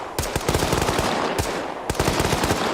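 Sustained 5.56 machine gun fire in the military video game Arma 3, loud and close, rattling in long rapid automatic bursts with a short break in the middle.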